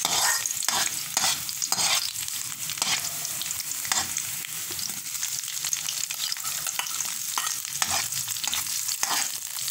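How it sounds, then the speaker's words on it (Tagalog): Onions sizzle and crackle steadily in a hot pan, with frequent scraping stirs of a utensil cutting through the frying noise throughout, close and fairly loud, no voices. "At ilagay na rin natin yung sibuyas."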